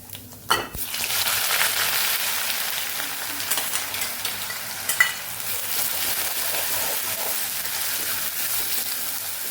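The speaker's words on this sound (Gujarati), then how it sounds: "તેલ સરસ ગરમ થઈ ગયું છે તો બધા ખડા મસાલા ઉમેરી દઈશું એક ચમચી જેટલું આપણે જીરું ઉમેરશું અને આપણે ડુંગળી ઉમેરી દઈશું" Onions and whole spices with cumin seeds sizzle in hot oil for a Kathiyawadi kaju gathiya curry, a steady close frying hiss after an initial clatter of ingredients hitting the pan.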